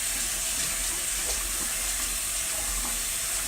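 Hot water poured slowly from a jug into a cup, a steady close trickling stream with faint hiss throughout, no talking.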